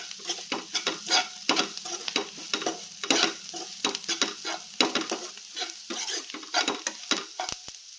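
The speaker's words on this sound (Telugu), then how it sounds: "గరం మసాలా, తీసుకొని మిక్స్ చేసుకోవాలి." A spoon stirs garam masala through a sizzling egg masala curry in a pan, giving quick, uneven scraping strokes over a steady fry, close and clear with no talking.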